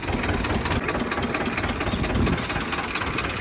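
An Escort tractor's diesel engine idles steadily close by, a dense rough rumble with a knocking pulse that runs on without pause and without voices.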